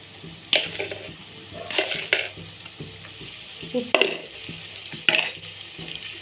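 Chili powder and salt being stirred into hot frying oil, with a steady sizzle and several sharper scraping strokes of a spoon against the pan, close and moderately loud.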